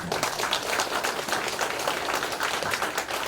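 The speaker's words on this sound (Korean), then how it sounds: "여러분 박수 한번 부탁을 드립니다" Audience applause fills a residents' information session on a Moa Town redevelopment district in Cheonho, Seoul: a steady, dense wash of many hands clapping at once, sustained at even loudness for the whole stretch with no talk over it.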